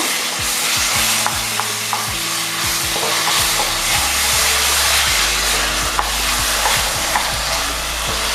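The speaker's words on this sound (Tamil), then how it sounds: "போட்டு நல்லா கிளறி விடுங்க." A spatula scrapes and stirs frying ingredients for a roasted brinjal gravy in a pan, repeated scraping strokes over a loud continuous sizzle, close up, with a low steady hum underneath and no talking.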